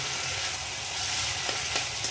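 Potato pieces added to a pan of frying prawn curry with banana flower and green chillies, a loud, close, continuous sizzle with faint stirring scrapes and no talk.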